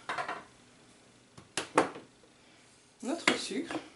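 Brown cassonade sugar and water going into a saucepan for macaron shells, with a few sharp clinking and scraping bursts of utensil against pan, separated by quiet gaps.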